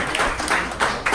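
A comedy show audience claps for two comedians at a comedy fight club event, with a short, steady burst of applause near and fairly loud.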